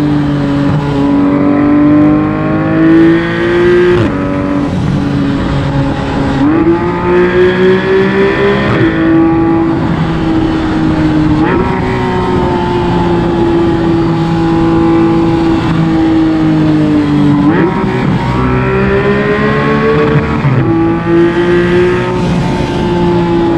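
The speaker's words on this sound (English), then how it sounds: "coming in at number 5 is the Porsche 911" A Porsche 911 991.1 GT3 engine revs loud and close, climbing through gears with sharp drops at each shift over a sustained roar.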